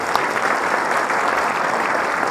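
An audience applauding at a chamber forecast luncheon, a dense, loud, steady roar of many hands clapping close by throughout, with no speech over it.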